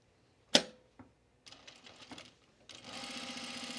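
A sewing machine understitching a dress placket gives a sharp click, then short bursts of rapid stitching before settling into a steady, fast, close mechanical whir.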